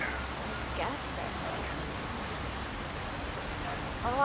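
Rain falling at night in the Hitman 3 video game, a steady, soft hiss of rainfall spread evenly across the scene, with faint voices talking over it.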